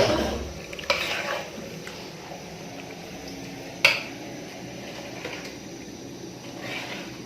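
Chicken is stirred in a pan as it cooks: soft scraping and a low sizzle, punctuated by two sharp metallic clanks of the utensil against the pan, with no talking.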